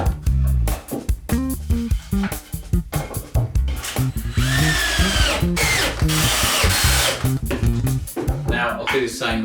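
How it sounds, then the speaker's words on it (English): A power drill bores holes in wood crate sides and bottoms, whining up and down in repeated short bursts that vary in pitch, close and loud. "So I'll drill two holes there on each bit."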